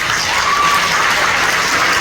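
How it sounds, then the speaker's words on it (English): A school audience at a spring concert claps steadily, a loud, even wash of applause from many hands with no speech over it. "I'd also like to give you a round of applause."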